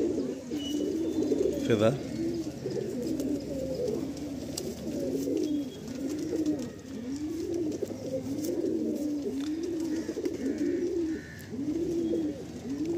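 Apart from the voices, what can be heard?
pigeons cooing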